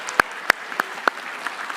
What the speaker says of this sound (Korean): 뜨거운 감사의 박수 드리겠습니다